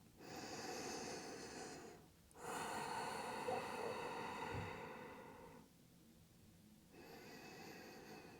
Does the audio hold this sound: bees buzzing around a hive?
no